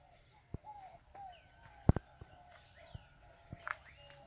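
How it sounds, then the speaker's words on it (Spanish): Birds sing faintly near jocote trees outside a house window, giving scattered short chirps and whistles. Occasional sharp clicks and knocks sit close by. "oigan los cantos de las aves."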